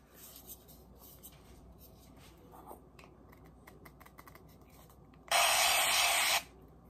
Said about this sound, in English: I'm going to pull it out and spray it with some of this